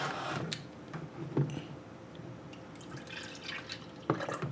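A milk jug pours liquid into a container, making a steady splashing pour with small drip-like ticks and gurgles, close and fairly quiet, with no voices.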